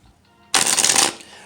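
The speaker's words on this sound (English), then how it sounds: "so let's shuffle it one more time on camera." A deck of tarot cards is riffled in a single quick, crisp shuffle, a dense burst of close papery flutter lasting about half a second.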